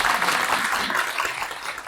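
An audience applauds at a union leadership inauguration ceremony, dense clapping that is steady and fairly loud for about two seconds, with no talk over it.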